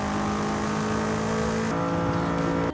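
A BMW M5 CS engine in Forza Horizon 5 holds a loud, steady, high-revving drone, then shifts pitch near the end of the pass and cuts off abruptly.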